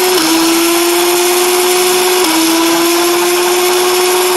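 An Adventure Force Spectrum flywheel foam dart blaster spins up with a steady, loud high-pitched motor whine that dips slightly in pitch partway through, running continuously and close with no talking.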